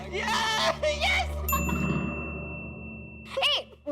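A phone message notification dings in a Hindi TV sitcom scene, one bright clear chime ringing out and decaying over a low hum, with people talking before and after it.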